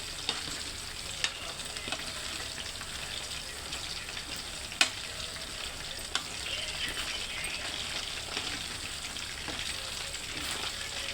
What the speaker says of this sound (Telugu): డీప్ ఫ్రైడే కదా, డీప్ ఫ్రై చేస్తున్నాం కదా